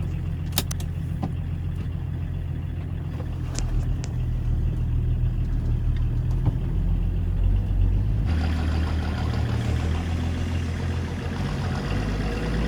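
An old vehicle with clutch trouble rumbles along while driving, its heavy low engine drone steady and close, rising slightly in intensity partway through.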